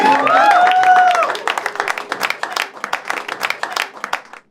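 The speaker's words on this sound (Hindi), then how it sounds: "आकाश भाई के लिए एक बार जोरदार तालियां" Loud applause for Akash from an audience at a Hindi poetry (shayari) gathering, starting under a voice with tonal singing or speech. Dense clapping follows for a few seconds and then stops abruptly.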